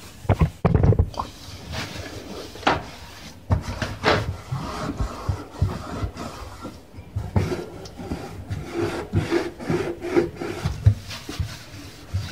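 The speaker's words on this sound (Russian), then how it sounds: "сейчас я ее тоже помою изнутри средством для мытья стекол" Someone scrubs the inside of an oven with glass cleaner, making uneven rubbing and scraping strokes at close range, mixed with occasional knocks and clatters.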